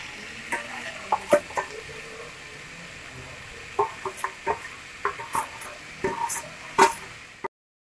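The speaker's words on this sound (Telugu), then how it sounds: "ఇప్పుడు అల్లం వెల్లుల్లిపాయ పేస్ట్ వేద్దాం." Ginger garlic paste frying in a pot for a large chicken biryani gives a steady low sizzle, broken by repeated spoon scrapes and clinks against the pot, close by.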